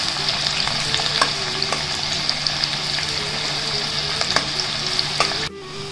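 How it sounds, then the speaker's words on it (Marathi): Garlic and onion sauté in a pan for mutton rassa, a close, steady sizzle with light stirring clicks that cuts off abruptly near the end. "लसूण टाकते, कांदा टाकला, परतून घेते थोडं लाल होईपर्यंत"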